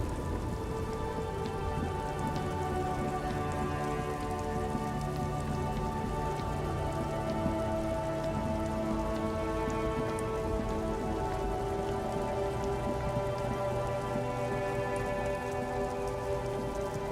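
Steady rain pours in the video game Disco Elysium, an even, continuous patter and hiss that holds unbroken for the whole stretch over a sustained tonal backdrop, with no voices.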